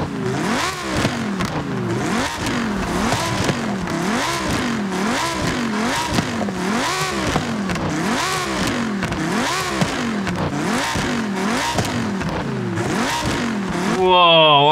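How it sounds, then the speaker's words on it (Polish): A Lamborghini track car from an Italian exotics car pack in a racing video game revs over and over in a steady rhythm, each loud engine rise and fall rasping close and continuous. "Jest to też jakieś torowe Lambo. Posłuchajmy, jak brzmi."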